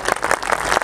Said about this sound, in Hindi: अब एक बार जरा सम्यक तालियां बजा दीजिए